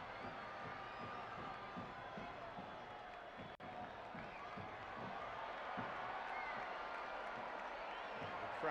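Stadium crowd at a Hartford Athletic versus Charlotte Independence soccer match, a broad, sustained roar of cheering rising toward the end, with a commentator talking over it.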